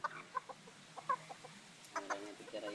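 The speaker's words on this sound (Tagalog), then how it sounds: "Dalawang tandang." Two small Serama roosters cluck softly and intermittently, short bursts of faint clucking scattered across a quiet background.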